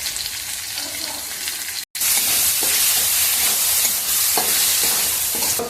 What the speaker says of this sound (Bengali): মশলাটা কষানো হয়ে গেছে, তেল ছেড়ে গেছে।